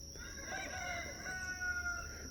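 A rooster crows in a long drawn-out call, fairly faint against a steady background hiss, with no one talking.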